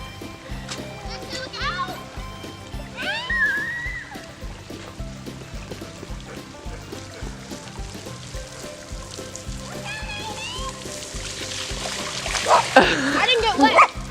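A child splashing through a big rainwater puddle on a rainy Louisiana day, with bursts of water splatter and a rising splash near the end, as children talk and shout excitedly throughout.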